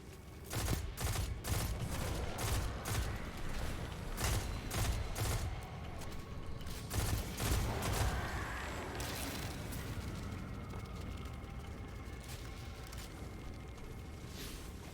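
Pulse rifle fire in Destiny 2: The Witch Queen, rapid bursts of loud gunshots in quick repeated volleys against dense battle noise, continuing throughout with no talk.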